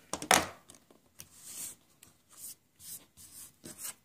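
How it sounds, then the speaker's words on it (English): A rotary cutter trims the edges of a fabric half-square-triangle quilt block against a ruler, heard as a few short, close scraping passes separated by quiet gaps. "you take your rotary cutter, trim 2 sides"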